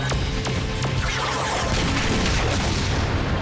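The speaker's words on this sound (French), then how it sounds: "Super méga canon." A Super Megaforce cannon blast from a French-dubbed Power Rangers episode hits as a loud, dense explosive roar with sharp crashing impacts at the start, then a sustained noisy rumble.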